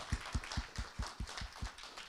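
A small indoor audience at a talk on Russia and Europe claps for Hans in a steady, sparse rhythm of distinct claps, fairly quiet and fading with no voices.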